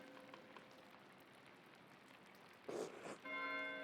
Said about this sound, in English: Why is Matthew ringing the bell?